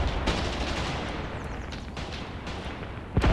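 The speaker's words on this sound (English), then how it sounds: "Yeah, more machine guns." Machine guns fire from trenches in the tactical war game Graviteam Tactics, a sustained, dense rattle of overlapping bursts that keeps going throughout and ends with a sharper, heavier report.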